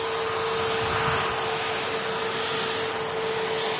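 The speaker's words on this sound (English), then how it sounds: "BA Flight 1394 coming in from London Heathrow. It's a A320neo, which is the newer generation of the Airbus aircraft" A British Airways Airbus A320neo arriving at Manchester Airport, heard as a steady, loud broadband jet roar with a constant tone running through it, with no voices.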